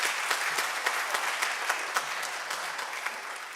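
Audience applause at a high school theatre awards night in an auditorium, a steady wash of many hands clapping with a few sharper individual claps standing out, moderately loud and without talk.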